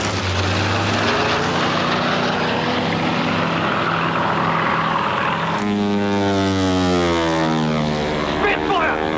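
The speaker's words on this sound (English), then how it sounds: "Spitfire!" Spitfire fighter plane engine drones loudly and close, its propeller note steady and then sweeping as the aircraft passes, with a voice shouting over the roar.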